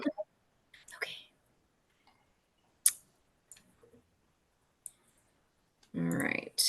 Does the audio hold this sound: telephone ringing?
no